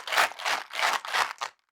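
Vitamin bottle handled on a desk: four quick rattling shakes of pills inside a plastic container, each a short crunchy burst, close and fairly loud, then silence.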